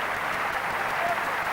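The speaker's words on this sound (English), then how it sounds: "he leaves the field to sympathetic applause, also from Terry Mattison." Crowd at a 1998 London Broncos versus Wigan Super League rugby league match applauding steadily as an injured player in a neck brace leaves the field, a dense, even clapping from the stands.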